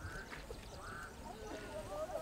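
Yellow-billed duck quacking at a wetland in Rwanda, several nasal calls close by over a steady outdoor background.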